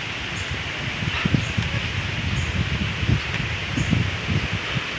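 Wind sweeps through foliage behind a house near banana and soursop trees, leaves rustling in soft irregular gusts, with a faint bird chirp now and then in the background.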